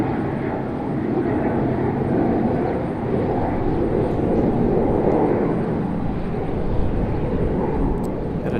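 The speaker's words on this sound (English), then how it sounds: "Got a Delta CRJ and a private jet." Steady, broad roar of jet aircraft at Raleigh-Durham International Airport, a Delta CRJ regional jet and a private jet, rumbling continuously at moderate distance with no talk over it.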